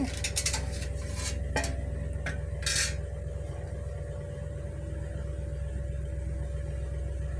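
Metal clinks and knocks from a pressure cooker lid being shut and its weight set on top while coconut rice cooks, a few sharp taps early on over a steady hum from the stove burner.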